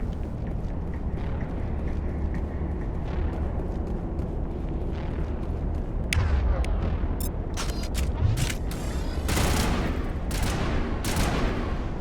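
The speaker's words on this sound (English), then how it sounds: "Who are you shooting at?" Gunfire in the sci-fi shooter game Mass Effect 1: a steady rumbling backdrop, then rapid bursts of shots and blasts crackling through the second half, loud and close.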